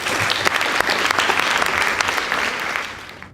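A studio audience at a school debate-style competition gives a secondary school girls' team a full round of applause, dense, even clapping that tapers off near the end.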